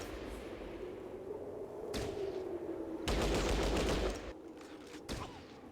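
Video game gunfire comes in bursts: a single sharp shot, then a sustained loud rapid volley, then another lone crack, all close and loud over a low droning background.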